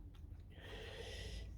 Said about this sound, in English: You might also hear the dogs snoring away in the background